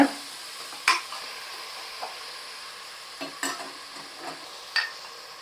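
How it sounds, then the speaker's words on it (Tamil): Sliced onions sauté in a pan for Dindigul-style mutton biryani, a soft continuous sizzle broken by several sharp spatula scrapes and taps, close and fairly quiet, with no talking. "இதை நம்ம நல்லா வதக்க ஆரம்பிச்சிருவோம்"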